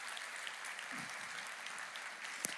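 A church congregation applauding, a sustained even patter of many hands clapping at moderate distance, without any talk.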